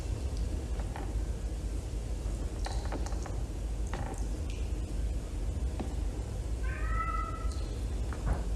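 A cat meows once, clear and fairly close, late in the scene from an Amityville horror film, after a stretch of scattered mechanical clicks and ticks over a low rumbling background.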